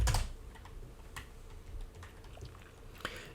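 Quick bursts of typing on a computer keyboard entering a Linux package update command, light clicky keystrokes in short clusters, close and fairly quiet.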